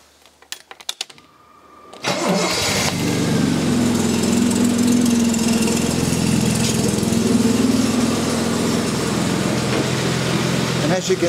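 A Steadman TS 100 engine is cranked and fires after a few faint clicks, then settles into a loud, steady close-up running drone with a light mechanical chatter throughout.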